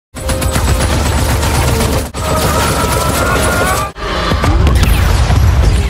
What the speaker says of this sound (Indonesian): Dirinya menembak buaya itu dengan senjata helikopter.